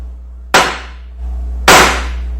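A hammer strikes a foil packet holding small amounts of sodium peroxide and red phosphorus, setting off two sharp, loud bangs about a second apart, each followed by a brief crackling hiss, over a steady low hum.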